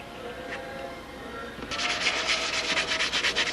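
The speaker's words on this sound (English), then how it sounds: "I've just been going over it, sanding the joint" Steady rasping strokes of sandpaper rubbing back and forth over a glued joint, close and rhythmic, starting after a quiet moment.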